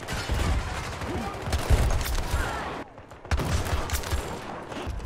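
Rapid gunfire in Battlefield 2042, with dense bursts of shots filling the scene nearly continuously, breaking briefly before resuming, under occasional talk.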